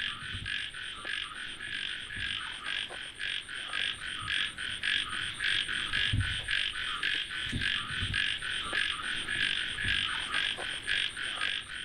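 A dense chorus of frogs croaks over summer-night rice fields, a continuous pulsing trill with occasional nearer, deeper calls, with no one speaking.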